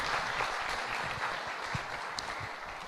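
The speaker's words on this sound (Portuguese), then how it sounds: "Uma salva de palmas para Jesus." Steady, dense applause from a church congregation during a worship service, many hands clapping at once across the whole moment with no speech over it.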